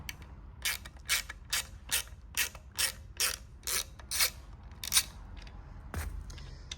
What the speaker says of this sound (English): you'll see that there is a small T20 that needs to be loosened up